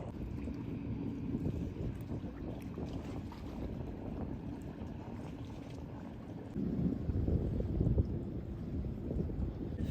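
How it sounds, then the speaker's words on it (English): Wind buffets a microphone outdoors in Florida, making a continuous low, rumbling roar that swells louder partway through, with no speech audible. "I don't even know if you can hear me because of the wind"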